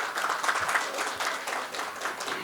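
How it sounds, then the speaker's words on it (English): Brief, dense applause from a seated audience at a panel discussion on business sustainability, fairly soft and continuous for a couple of seconds. "A huge round of applause for him."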